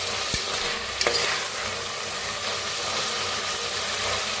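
Masala rice ingredients sizzle steadily in hot oil, a constant close frying hiss broken by a couple of sharp scrapes from stirring.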